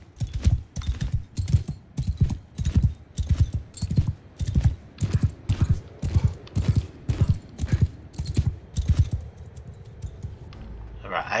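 Horse hooves gallop in the video game Mount and Blade II: Bannerlord, a loud, close, regular drumming of heavy beats that fades near the end.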